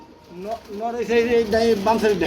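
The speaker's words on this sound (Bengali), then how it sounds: "আরেক জোড়া কবুতর ব্ল্যাক গোল্ড কালার" A pair of black gold coloured pigeons coo in low, rolling, repeated calls close by, with someone talking over them.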